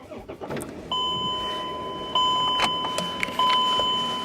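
A car being switched on, with a series of steady electronic beeps and chimes stepping up in level as the ignition turns, close and alone with no engine roar evident.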